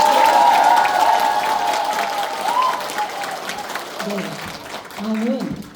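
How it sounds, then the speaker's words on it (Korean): Large crowd at an indoor political party members' event applauding steadily, loud and sustained through the clip, with a voice speaking over it and the clapping swelling again near the end. "우리를 위하여 큰 박수 부탁드립니다."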